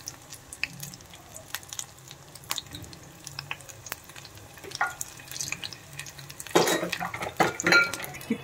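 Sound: pakoras frying in oil

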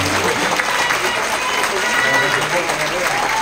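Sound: applause

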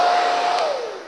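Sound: hair dryer blowing

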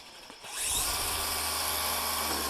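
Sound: DeWalt DCMST561N cordless brushless string trimmer running at low speed

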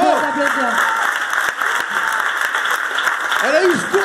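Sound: applause for Virginie Marson and the Prisme team

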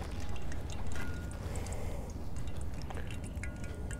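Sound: fish sizzling and popping over campfire

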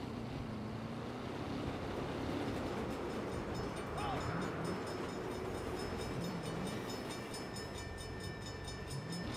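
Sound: train passing in a video game

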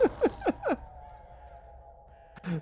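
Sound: birds cawing in haunted house video game

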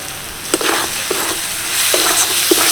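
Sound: stirring semolina pasta sauce in pan

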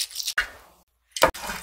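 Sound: sprinkling sake on grilled eel to wash off sauce

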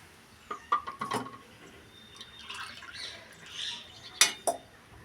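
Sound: pouring two cups of water into a cooking pot

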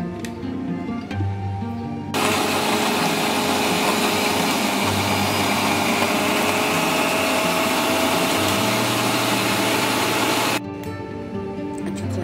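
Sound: mixer grinder blending juice ingredients

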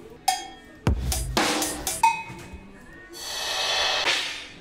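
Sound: acoustic drums blended with electronic, Native Instruments Drum Lab

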